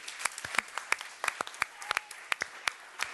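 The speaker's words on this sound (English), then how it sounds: "So this is your applause, Sandra." A small summit audience gives scattered applause for an organizer coming on stage, a sparse run of distinct, fairly quiet claps at an uneven rhythm.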